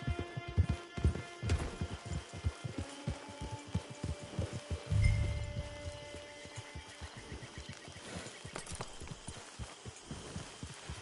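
Rhythmic horse hoofbeats in a PS4 video game clip-clop steadily at close range, with a low thump midway and faint tonal background music throughout.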